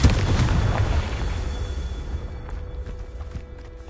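A Confringo fire spell bursts in Hogwarts Legacy, a deep explosive boom that rolls out and decays over a few seconds, leaving fading crackles behind.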